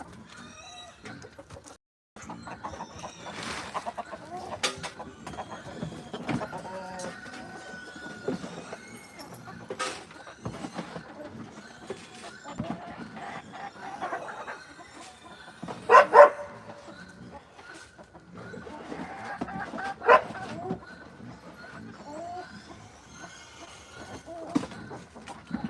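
Farmyard chickens cluck intermittently at feeding time while a dog barks now and then, the sounds scattered and moderately loud against a quiet outdoor background.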